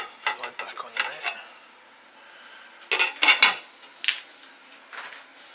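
Metal lid clattering back onto a pot of homemade lamb curry in a home kitchen, a few sharp clinks and knocks in bursts, close and moderately loud, with scattered cookware taps around them.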